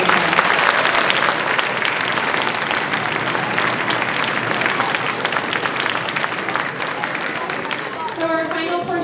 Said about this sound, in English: So can we give all the teachers here this evening a round of applause?